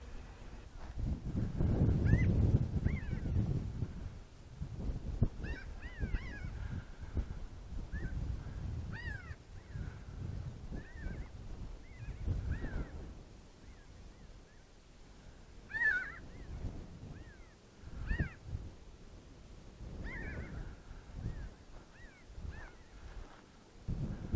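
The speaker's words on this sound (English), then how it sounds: "a flock of birds came over, and they were real chatty" A flock of birds calls repeatedly overhead at a rural property, short chattering caws scattered over a low rumbling background, some calls nearer and louder than others.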